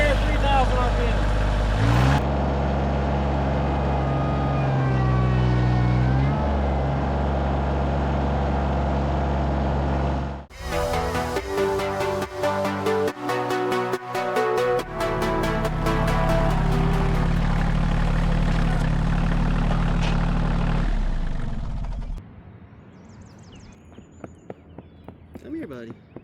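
Kioti CK or CX compact tractor engine running in low gear, revving up from 2000 to 3000 RPM: a loud, steady droning hum that shifts pitch partway through, then drops away near the end.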